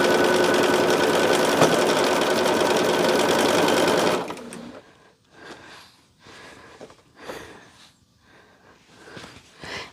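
A sewing machine runs steadily for about four seconds as fabric pieces are stitched together for a quilt, then stops, leaving quiet handling noises and soft breathing.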